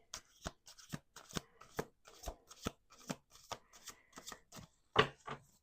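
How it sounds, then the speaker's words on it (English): Tarot cards are shuffled repeatedly in quick, crisp bursts of riffling clicks, close up, with brief pauses between each shuffle. "One more shuffle."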